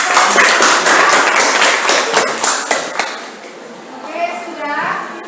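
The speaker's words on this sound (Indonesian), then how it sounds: "beri tepuk tangan untuk kelompok" A classroom of students applauds a group after its discussion presentation, a burst of rapid overlapping claps that gradually thins and fades, mixed with children's voices talking.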